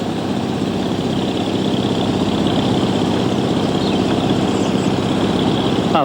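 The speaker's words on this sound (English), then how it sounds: "looks like old George the digger driver's going to turn the pump off in a minute" A water pump engine runs beside a fishing water, one loud, steady, unbroken drone with a low rumble, constant level and no pauses.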